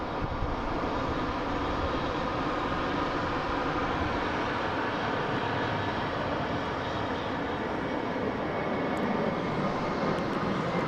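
Delta Embraer E175 regional jet bound for LaGuardia, a steady, loud broadband engine roar that holds evenly throughout with no voices.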